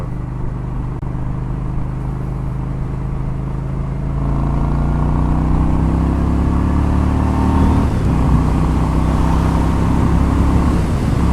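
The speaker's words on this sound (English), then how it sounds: "You can see the motorcycle has plenty of power." Honda Shadow ACE 750 motorcycle engine on the road, a loud steady drone that rises in pitch as it accelerates, with a brief dip and recovery near the end and no talking.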